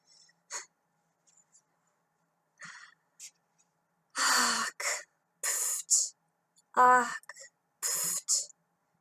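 A voice imitates snoring in a series of loud, raspy snorts and wheezy breaths, separated by short silences, with a few quieter clicks and breaths at the start.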